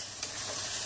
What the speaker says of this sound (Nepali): अब चाहिँ प्याज मजाले पाक्यो